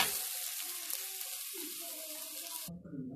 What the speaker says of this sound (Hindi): अब इसको भी हम अच्छे से भून लेंगे।